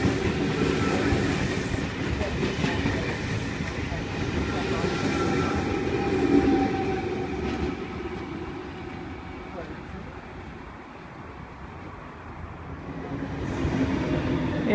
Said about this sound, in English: Here we have V28 passing platform 3.